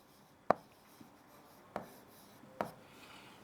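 During a Class 8 science lecture, a teacher writes notes on a board, making three brief, sharp strokes spaced over a few seconds in a quiet room with no talking.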